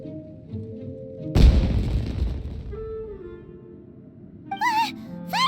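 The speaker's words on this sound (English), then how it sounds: "It sounded like fireworks." A fireworks blast in the video game Genshin Impact: one sudden heavy boom with a rumbling decay, set among soft game music, followed later by brief whooshing sparkle effects.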